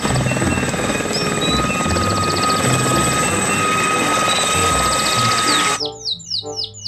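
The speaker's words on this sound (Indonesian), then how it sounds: "ini helikopter militer" Toy military helicopter sound effect: a steady, loud electronic whirring drone with a high buzzy tone that cuts off near the end, followed by a few short chirping bursts.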